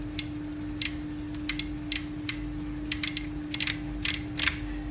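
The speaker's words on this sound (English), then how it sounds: "the relays are all clicking down" Relays inside a Mesa Mark V guitar amplifier under workshop repair click in quick irregular bursts as channels are switched, sharp and close over a steady mains hum.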